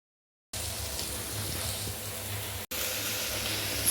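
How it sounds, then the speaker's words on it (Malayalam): Sliced onion dropped into hot coconut oil for a Kerala-style curry, a sudden loud continuous sizzle starting after a brief silence and holding steady with a momentary break near the end. "വെളിച്ചെണ്ണ ചൂടായിട്ടുണ്ട്. നമുക്കതിലേക്ക് സവാള ഇട്ട് കൊടുക്കാം."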